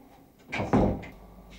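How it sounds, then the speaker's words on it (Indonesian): A door is slammed hard indoors: a sharp wooden bang with a short rattle, then quiet room tone. "biar dibanting sampai ambruk ini pintu, gak bakalan pelang nama ini melorot"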